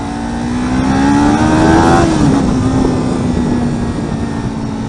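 A Kawasaki Ninja 400 revs up loud and close in second gear, its engine note climbing steadily before easing off into a sustained, buzzing drone.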